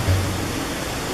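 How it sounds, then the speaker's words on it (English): Water pouring out of a can of diced tomatoes, a steady broadband splashing rush that holds evenly for about a second. "start by pouring all the water out of the can"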